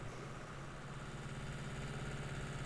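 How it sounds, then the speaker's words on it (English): Powerful tractor engine laboring up a steep hill in Farming Simulator 19, a steady low throbbing hum that swells slightly in loudness, close and alone without speech. "Good on horsepower on this tractor actually, because most tractors would struggle up that hill"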